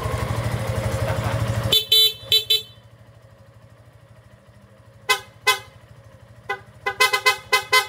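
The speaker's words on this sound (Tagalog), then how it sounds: "Yung horn niya to eh." A PIAA horn fitted to a motorcycle honks in short repeated bursts, loud and close, over a steady idling engine after an initial stretch of louder revving.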